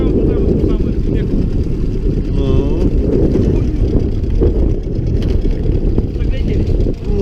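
A small outboard motor drives a fishing boat through strong wind and stormy weather, with a loud, steady low engine drone and blustery wind rumble continuing throughout.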